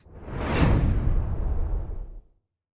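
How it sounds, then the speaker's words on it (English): A simple swoosh sound effect for a logo slide: one smooth airy whoosh that swells over about half a second, holds, then fades out cleanly just after two seconds. "Simple swoosh for the slide."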